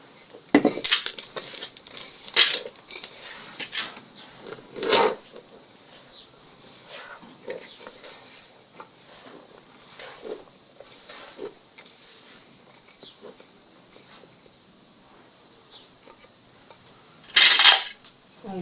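Donut dough being mixed by hand in a bowl in an African village kitchen, with irregular clinks, scrapes and soft knocks against the bowl, a louder clatter near the end and faint speech in the background.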